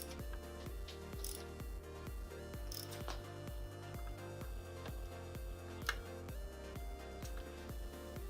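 A ratchet clicks in a fast, steady series of sharp ticks as it turns an engine crankshaft two revolutions clockwise, close and fairly faint.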